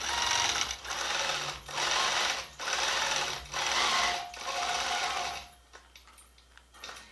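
A longarm quilting machine stitches a quilt in quilt-as-you-go fashion, running in five rhythmic bursts of rapid needle chatter with short pauses between, then stopping into a few quiet clicks.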